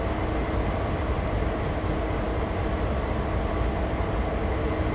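A CSX freight locomotive in Train Sim World 6, running long hood forward in reverse between Framingham and Everett near Boston, gives a steady, loud diesel rumble and rolling rail noise with no breaks.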